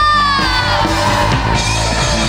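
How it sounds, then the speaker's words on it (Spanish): A church congregation yells and whoops together in a loud burst of cheering over worship music. "¿Cuántos pueden dar un grito de júbilo?"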